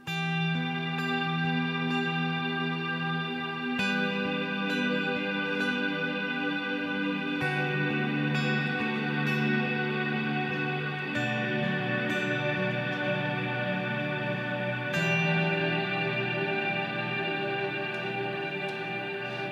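A reverb unit set to cloud mode, preset three, produces a dense, sustained wash of layered tones with long shimmering tails, swelling and shifting chords for about twenty seconds, loud and continuous with no voices.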